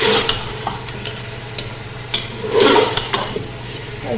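Korma meat fries in a pot with ginger and garlic, giving a steady sizzle. Regular sharp scraping taps from stirring come through, and a louder burst of frying swells midway.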